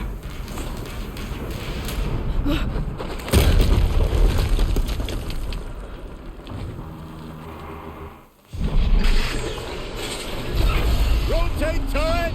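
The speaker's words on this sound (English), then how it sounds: "Another explosion." Explosions in Horizon Zero Dawn Remastered: a heavy blast bursts amid ongoing rumbling and mechanical noise, a brief near-silence drops out, then another loud burst erupts and the roar continues.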